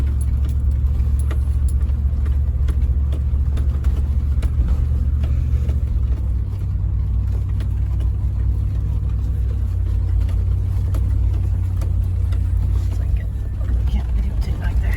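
A Land Rover climbs a hill in four-wheel-drive low range, second gear, its engine a steady, loud low rumble throughout with some speech mixed in.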